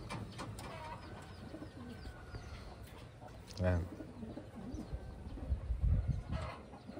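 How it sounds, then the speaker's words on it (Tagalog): Pigeons newly arrived from Taiwan coo softly in a loft, a low rhythmic cooing standing out near the middle and again toward the end, under someone speaking close by. "Ito yung unang ibon natin."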